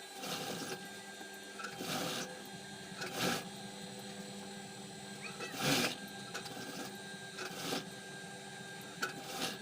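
Sewing machine stitching the lining inside an embroidered blouse, a steady mechanical hum broken by several short louder bursts of stitching, close and without talk.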